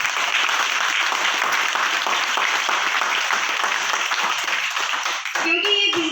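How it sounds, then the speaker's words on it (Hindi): Loud, sustained applause from a crowd at a business achievers' event, steady throughout, with a brief dip and a tonal sound near the end. "उनके लिए एक बार जोरदार तालियां दीजिए"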